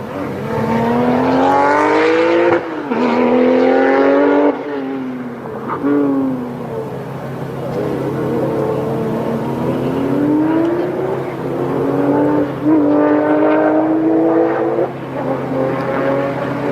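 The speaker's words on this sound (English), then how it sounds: "continuing up the ascent in that Porsche 911 GTR Pikes Peak" A loud, high-revving Porsche 911 GTR race car engine climbs and drops in pitch as it shifts up through gears on the Pikes Peak hill climb, passing near and fading slightly, with no talking.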